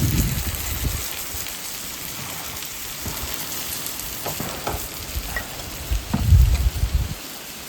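Ayala (mackerel) fish fries on a low flame in a pan, giving a continuous close crackling sizzle with a few louder bumps and spatters from handling.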